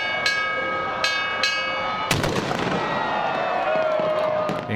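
Firecrackers and fireworks at a New Year's Eve celebration at Victoria Harbour, with several sharp crackling bursts followed by a louder bang and a lingering crackle, over steady background crowd noise and music.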